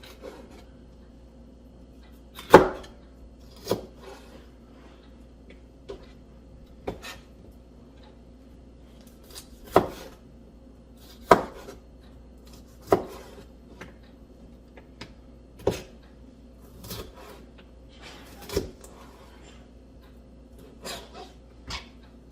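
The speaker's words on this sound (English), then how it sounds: "So we're going to cut this fairly small too. So I'm going to cut it in sections." A knife chops through a pepper on a cutting board in sharp, irregular knocks, roughly a dozen cuts spaced a second or so apart, close and fairly loud over a quiet low hum.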